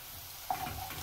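Garlic dropping into a pan of translucent onion for black beans, setting off a faint, sudden sizzle that swells briefly and keeps crackling softly for about half a second.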